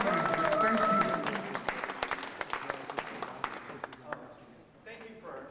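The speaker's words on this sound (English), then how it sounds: "Give him a round of applause as he makes his way up here to the stage." Audience applause for a poet walking up to the stage at a poetry reading, a dense burst of clapping that thins into scattered claps and fades, with a voice speaking over it.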